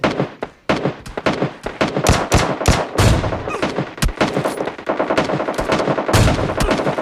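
Rapid automatic gunfire from PUBG Mobile Lite as the player shoots at bots, with dense, loud bursts of shots and short pauses running through the whole stretch.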